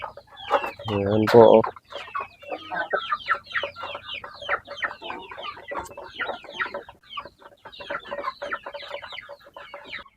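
Hens cluck outdoors on a farm, a burst of louder clucking early on followed by a steady run of soft, close clucks, with someone speaking briefly.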